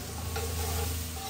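Chicken sautéing in a pan for pancit guisado, a continuous close sizzle with stirring scrapes, steady and loud, no voices.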